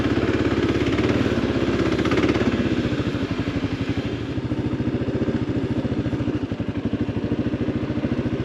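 A 2023 Kawasaki KLR 650 rides off-road over lava fields, its single-cylinder engine thudding in a steady, loud rapid pulse with rattling and clatter throughout.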